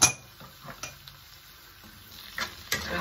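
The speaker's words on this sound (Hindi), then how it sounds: "और जब ये अच्छे तरीके से ऑयल हो जाए तो हमने ये अनियंस और ये शिमला मिर्च इनको फ्राई करना है" Onions and capsicum frying in hot oil for a chicken jalfrezi, a soft steady sizzle with a few clinks and stirring scrapes of a utensil against the pan, close and fairly quiet, with no talking.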